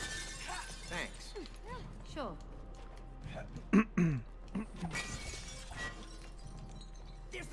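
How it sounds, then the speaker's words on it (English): Glass breaking in the co-op video game It Takes Two: a brief shattering crash midway, heard under ongoing talk from players and game characters. "We'll break the glass."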